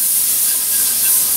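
Margarine sizzling in a preheated frying pan, a steady close hiss that holds evenly throughout with no pauses and no talk.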